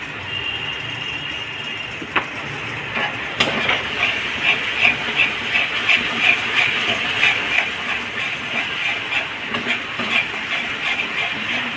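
Oil in a pan sizzles with a continuous hiss while potol curry cooks, close and fairly loud, with a sharp knock early on and a crackling, bubbling texture that swells and then holds steady.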